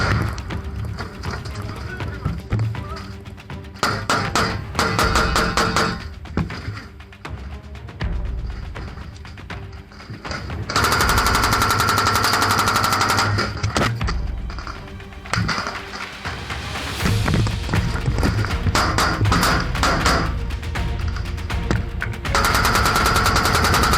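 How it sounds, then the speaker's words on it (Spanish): Battlefield gunfire as Ukrainian soldiers shoot freely, dense rapid bursts of automatic fire and scattered shots cracking continuously, loud and close, with a mix of voices and other battle noise underneath. "Los ucranianos ahora disparaban a mansalva y los cargadores se agotaban"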